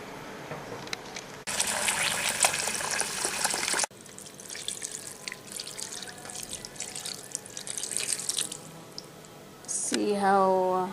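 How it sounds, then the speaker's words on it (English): Water runs from a tap into a pot of vine leaves and rice for koupepia, a steady gush lasting a couple of seconds, with softer splashing afterwards and a voice speaking now and then. "I will put water."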